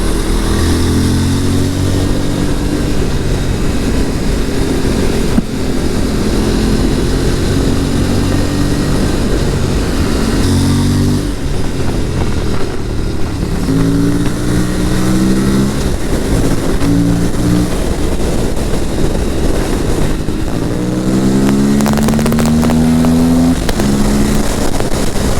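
An Aprilia RS457 motorcycle tears along at speed, its engine note rising and falling through gear changes with loud, continuous wind and road roar, close and unbroken by talk.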